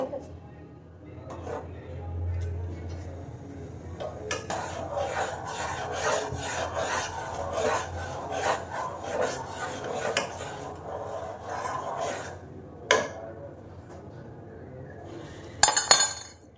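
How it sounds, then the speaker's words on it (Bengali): A spoon scrapes and clinks against a metal pot while tea is being stirred, giving quick rasping strokes and light metallic taps up close in a quiet room. "এবার এটা একবার শুধু চামচে দিয়ে ঘাটিয়ে দিতে হবে।"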